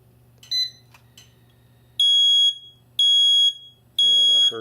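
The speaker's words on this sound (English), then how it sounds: "I'm going to put my thumb over this sounder here, and I'm going to press the test button." Interlogix smoke detector sounder on test with a thumb held over it, giving three loud, shrill electronic beeps about a second apart, each roughly two-thirds of a second long, after a couple of faint clicks.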